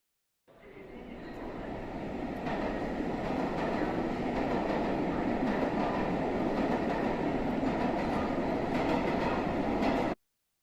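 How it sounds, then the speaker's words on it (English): Subway train in a simulated New York City station, rendered as a loud, steady rail roar and rumble that rises quickly, then holds evenly for about ten seconds before cutting off, with no talk. "it took a long time to match the sound of the oncoming train and the going away train"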